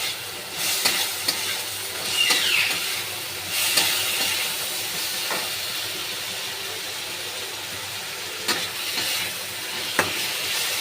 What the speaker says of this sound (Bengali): কাঁচা লঙ্কাটাও দিয়ে দেব। বেশ নেড়ে ছেড়ে নেব।